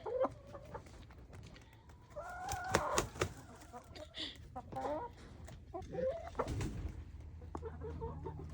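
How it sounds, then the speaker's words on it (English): Chickens cluck and squawk at close range in scattered bursts, with a quiet background of other farm sounds. "these are my other kennel of chickens"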